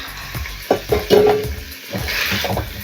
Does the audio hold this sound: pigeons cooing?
no